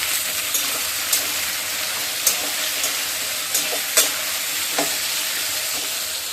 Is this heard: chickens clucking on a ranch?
no